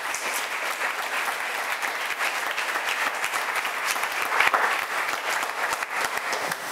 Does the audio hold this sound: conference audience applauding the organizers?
yes